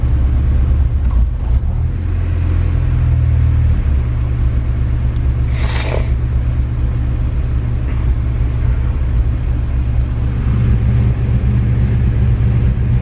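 A K24-swapped sedan engine idles on a dyno running E85, a steady low rumble throughout with a slight stumble, plus a brief brighter burst of noise near the middle.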